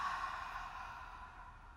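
A person breathes out in one soft, drawn-out sigh during a twisting stretch in a gentle back and joint exercise routine, close and fairly quiet, fading slowly across the breath with no talk over it.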